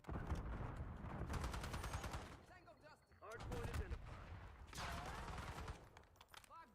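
AK rifle fire in the video game Black Ops 6, sustained rapid automatic bursts with heavy recoil rattle, loud and dense, with a brief gap midway before firing resumes.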